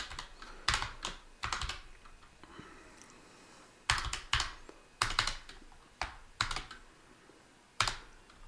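Fingers tap out a made-up password on a computer keyboard in short, close bursts of crisp key clicks separated by pauses, quiet and alone with no voices.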